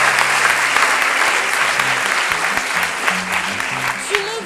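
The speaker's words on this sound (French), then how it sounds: "On peut l'applaudir quand même parce que c'était assez culotté." Steady applause from an improv festival audience in Paris, dense clapping throughout with a few murmurs and a brief voice near the end.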